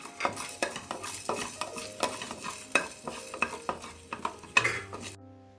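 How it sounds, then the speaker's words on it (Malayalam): Coriander seeds and dried red chillies roasting in a pan, with repeated scraping stirs and soft rattling of the dry spices against the metal, close and clear, without talk. "ഇത് ഞാൻ ഈ പാത്രത്തിലേക്ക് ഇട്ട് കൊടുക്കുകയാണ്. നമുക്കിതൊന്ന് ജസ്റ്റ് ഒന്ന് ചൂടാക്കി എടുത്തിട്ട് മിക്സിയിലിട്ട് ഒന്ന് പൊടിച്ചെടുക്കാം."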